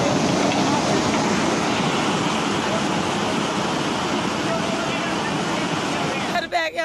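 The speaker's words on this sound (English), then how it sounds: "The area was flooded as water gushed rapidly through the parked vehicles" Floodwater from a flash flood in Bhakshuna roars rapidly through streets and past parked vehicles, a loud, steady, unbroken rush filling the whole stretch before cutting off abruptly near the end.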